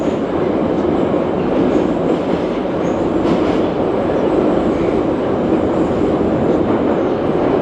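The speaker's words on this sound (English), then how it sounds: "So I'm going to get on this next train and head on home." Steady loud rumble and rolling clatter of a Yekaterinburg metro train riding between stations, heard from inside the car as one continuous roar with no talk.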